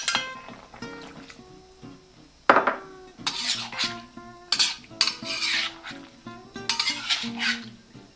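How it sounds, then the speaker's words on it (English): Beef and broccoli stirred in a pan after cornstarch is added, a spoon scraping and clinking against the metal in repeated bursts, close and clear with no speech, a sharp knock near the start. "you spin a few times, stir, spin, stir, spin, stir, spin, stir"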